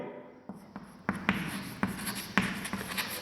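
Chalk tapping and scraping on a classroom blackboard during a Class 5 mathematics lesson: a series of sharp, close strokes and taps in an irregular rhythm, with no talk.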